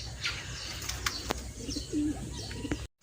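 Racing pigeons coo softly at a loft as they return from a training flight, with a few low coos and light rustling and chirps close by, ending abruptly.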